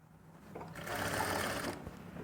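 A sewing machine stitching fabric for a winter dress in a sewing class, running steadily for about a second with a rapid mechanical whir, near and clear, then stopping.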